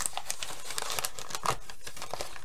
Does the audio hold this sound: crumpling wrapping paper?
yes